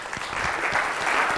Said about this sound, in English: I think we give a round of applause for that.